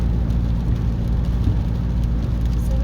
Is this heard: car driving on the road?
yes